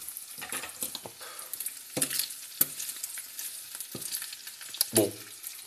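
Scrambled eggs frying and being stirred in a pan, a soft steady sizzle with scraping strokes and occasional utensil knocks against the pan, close and fairly quiet.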